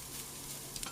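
Broccoli florets stir-frying in oil in a wok, a steady close sizzle with light stirring scrapes and a couple of brief crackles near the end.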